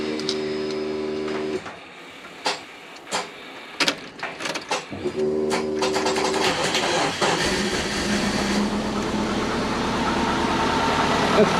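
A twin-turbo Subaru Forester engine cranks with a few sharp clicks and rattles, then fires up and settles into a steady, fairly loud idle that carries through to the end.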